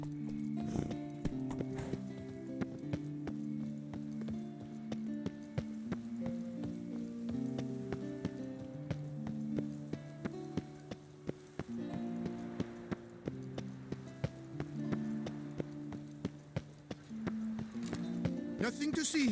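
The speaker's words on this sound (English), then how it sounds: "Whoa there, Roach." Horse hooves clip-clop steadily at a walking pace on the Toussaint roads of The Witcher 3, an even rhythmic tapping heard over a continuous melodic music score, with a nearby horse whinny.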